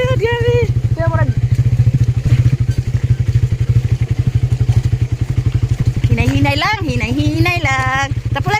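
A motorcycle is ridden along a rough, rocky provincial road, its engine droning steadily up close with rattles and thumps from the bumps, while several people talk and call out over the noise.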